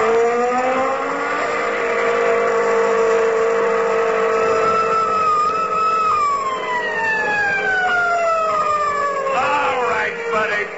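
Old-time radio comedy sound effect of a car engine speeding along, a loud sustained whine rising and then sweeping down in pitch near the end, with a siren-like wail joining in as if a police car gives chase.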